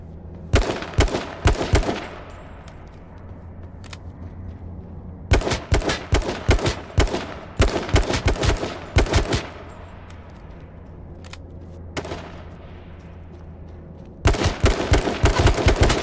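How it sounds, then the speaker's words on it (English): Bursts of automatic gunfire in the video game H1Z1, loud rapid volleys of several seconds each separated by quieter gaps, with a steady low hum underneath and no talking. "Shots coming from there."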